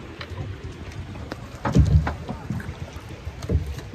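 An oar paddling a bangka boat toward a larger bangka out on the water, with soft dips and splashes at an irregular rhythm over a low, steady background of water noise.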